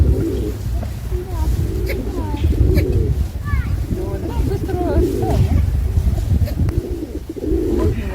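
Pigeons coo repeatedly nearby, soft throaty calls over a steady outdoor background with wind and occasional murmuring voices.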